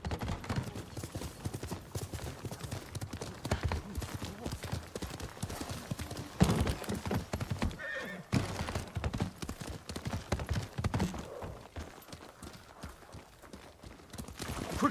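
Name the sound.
horse galloping hooves in Ghost of Tsushima video game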